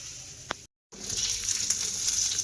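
Onions fry in hot oil with a continuous close sizzle and hiss, briefly cut to silence near the start and then resuming steady and a little louder.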